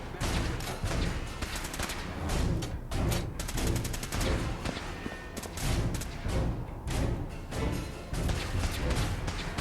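Sustained gunfire from a Fallout 4 battle: dense overlapping shots and rapid bursts rattle on through the whole stretch with heavy thuds, loud and close, and no talk over it.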